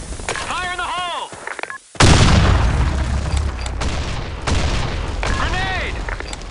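A grenade detonates in Counter-Strike, a sudden loud blast followed by a long rumbling roar, with voices heard before and after the explosion.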